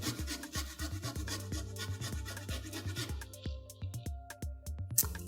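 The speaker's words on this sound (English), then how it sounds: "we're going to zest an orange" An orange being zested over a cutting board, with quick repeated rasping scrapes in a steady rhythm up close, then a few sharper, more spaced strokes, and no talking.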